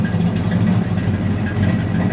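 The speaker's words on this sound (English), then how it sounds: "hear that great sound of that dual exhaust, that 350" The 350 V8 of a restored 1971 Chevrolet C10 idles through dual exhaust with a deep, steady rumble, close and loud, with no talking.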